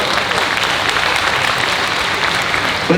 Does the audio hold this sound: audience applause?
yes